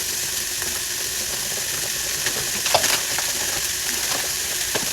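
Noodles and onion stirred in a frying pan, a steady sizzle running throughout with a few soft scraping clicks from the utensil, fairly close and without talk.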